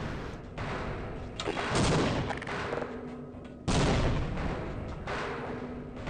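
A grenade thrown and exploding in Half-Life 1, with sharp bursts and a loud blast around the middle, followed by a second strong impact and rumbling aftermath.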